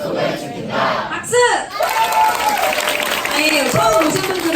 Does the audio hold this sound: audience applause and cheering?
yes